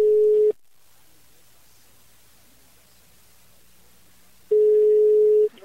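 Telephone ringback tone on a prank phone call: a steady tone rings once, drops to a faint line hiss for several seconds, then rings again.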